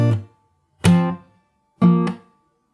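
Fingerstyle acoustic guitar plays a song, three separate plucked chords ringing and fading one after another, close and clear with no voice.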